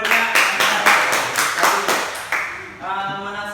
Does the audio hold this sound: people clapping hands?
yes